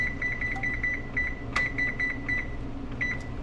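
A kitchen timer beeps repeatedly in quick regular bursts over a steady low hum, with short pauses between groups of beeps while cooking candied peppers.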